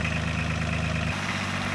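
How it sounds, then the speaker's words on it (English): A Red Roo SP4012 stump grinder engine, either a 33 horsepower Kubota diesel or a 35 horsepower Briggs & Stratton petrol unit, runs steadily at a low idle-like throb with a slight shift in pitch partway through. "The Roo SP4012 stump grinder is powered by a 33 horsepower Kabuto diesel or 35 horsepower Briggs & Stratton petrol engine."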